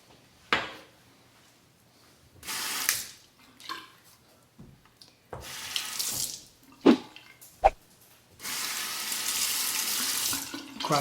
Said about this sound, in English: Quick rinse and relather.